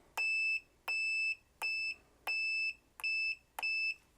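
Six short, identical electronic beeps from the select button on a Gochifix LG302 handheld oscilloscope-multimeter combo, evenly spaced as it steps through resistance, diode and continuity modes, close and clear with no talk.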